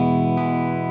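Electric guitar through a Blackstar amp on its KT88 setting with reverb, a sustained, slightly driven chord ringing with rich harmonics and a brief pick noise midway, alone.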